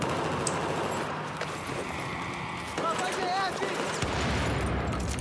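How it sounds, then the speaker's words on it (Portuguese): In a shooter video game, a grenade explosion and rapid gunfire crackle over a steady rumbling background, with a low thud near the end and a warbling effect in the middle, all fairly loud. "Granada granada bateu ali."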